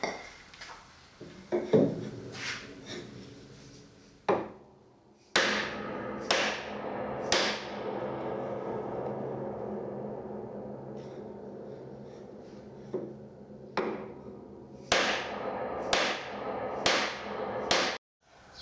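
Glued joints in the wooden case of a 130-year-old piano being knocked loose during disassembly: a series of loud, sharp whacks and thuds, some in quick clusters, with ringing wood resonance between strikes.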